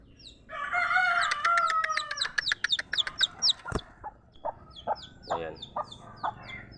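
Chickens in a farm poultry yard make a loud nearby cackling run that breaks into rapid repeated clucks, then softer scattered clucks and chirps, with one sharp knock in the middle.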